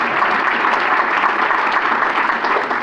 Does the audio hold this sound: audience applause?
yes